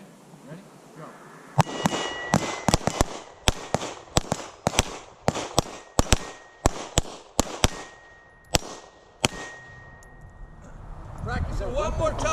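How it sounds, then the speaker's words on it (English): Pistol shots in a team double-tap shooting drill, a rapid string of sharp, loud cracks in pairs and clusters for several seconds, followed by people talking near the end. "As soon as he fires his gun, as soon as you hear him fire, you're going to shoot."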